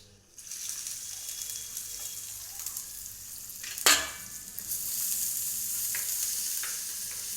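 Crushed garlic and onion hit hot oil with mustard seeds and cumin in a sudden crackle, then a steady sizzle of frying continues close up.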